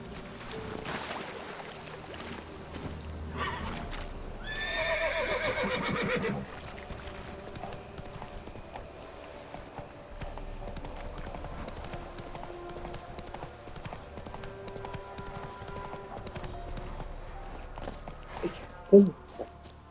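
Roach, a horse in The Witcher 3, neighs in a loud whinny burst, then hooves clip-clop steadily along under ambient game sounds, with a sharp thump near the end.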